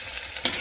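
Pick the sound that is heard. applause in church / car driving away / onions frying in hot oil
onions frying in hot oil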